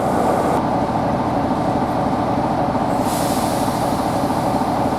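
Wensleydale Railway heritage train running steadily with a broad, constant rumble throughout, and a brighter hiss of air joining partway through, loud and close with no talking.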